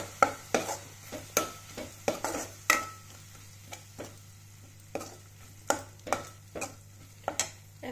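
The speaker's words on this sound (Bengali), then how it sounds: "1 চামচ জিরা গুঁড়া এবং 2 চামচ ধনিয়া গুঁড়া। এখন সবকিছু একসাথে ভালো করে মিক্স করে নেব।" A spoon scrapes and taps repeatedly against a pan as cumin and coriander powder are stirred in, an irregular run of sharp strokes over a faint, continuous sizzle and a low steady hum.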